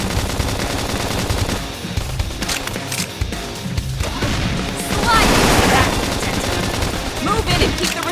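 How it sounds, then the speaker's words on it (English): Rapid gunfire during combat in the video game Xenoblade Chronicles X, dense bursts of shots over a loud mix of music and effects, continuous throughout with a heavier blast midway. "If we can just topple them with gunfire."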